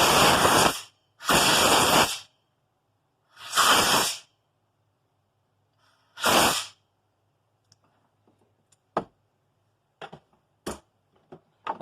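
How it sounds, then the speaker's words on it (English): A compressed-air blowgun blasts through a 34mm Mikuni carburetor from a Polaris XLT, giving four loud, close hissing bursts of about a second each, followed by shorter, sharper puffs with quiet gaps between them. "take the blowgun, blow out everything in the carburetor"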